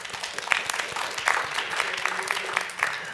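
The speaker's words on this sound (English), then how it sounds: "I appreciate all of the applause out there for my colleagues." An audience claps at a Board of Trustees meeting: dense, steady applause with bright crackling hand claps and a few sharper peaks, running for several seconds at a moderate distance.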